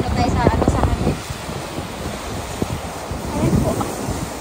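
Strong wind buffets the microphone by the sea at Yomitan, Okinawa, with surf washing in the background. The gusts come in uneven rumbling bursts at close range and rise again near the end.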